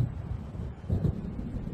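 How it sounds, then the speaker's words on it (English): Low thunder rumbles from an approaching storm in the Alan Wake video game, a deep distant roll that swells midway, under a wind-like wash. "It seems there's a storm coming."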